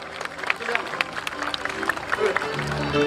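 An audience at an outdoor Balinese comedy show at a festival applauds amid crowd hubbub, scattered claps mixed with chatter and background voices.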